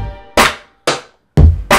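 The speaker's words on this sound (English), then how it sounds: "other kick drum is more bassy and just longer." A bassy kick drum with a long decaying tail thumps four times in a loose beat, each hit booming up close before fading out.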